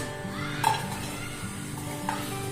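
Fresh dates tossed into a pan on the stove for sugar-free date laddoos and stirred, a soft frying sizzle with a couple of light clinks of the utensil against the pan, no voices.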